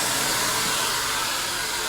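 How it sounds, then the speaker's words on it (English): Samvia blow dryer fitted with a bowl diffuser running on high heat and high blow, a steady loud close-up whoosh with no breaks or voices. "a lot of my salon guests love this blow dryer too"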